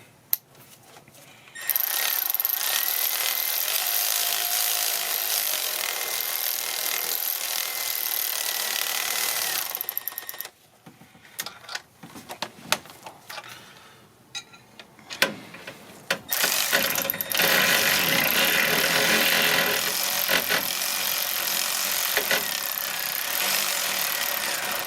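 Valve cover bolts on a 2001 Ford Escape are tightened one after another with a hand tool, giving close, loud scraping and ratcheting bursts with short pauses between runs and no talk.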